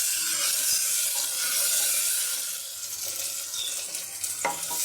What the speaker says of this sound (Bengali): আমি আর একটু পেঁয়াজ দিয়ে দিলাম টমেটো দিয়ে দিলাম এগুলো আমি হালকা করে একটু লাল করে নিলাম